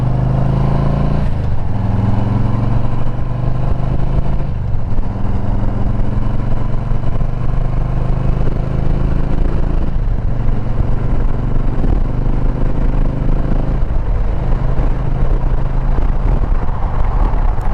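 A Harley-Davidson project bike pieced together from three motorcycles drones steadily on the way to work, with a loud, continuous engine note and a couple of gear changes, all heard alone.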